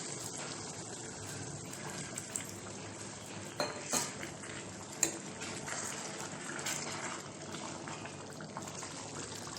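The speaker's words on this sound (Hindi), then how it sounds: "एक कप के हिसाब से हम पानी डाल रहे हैं, ये गर्म पानी है।" Hot water is poured from a cup into a pressure cooker holding fried potato and mutton curry, a steady splashing fill with a few metallic clinks and knocks of the pot.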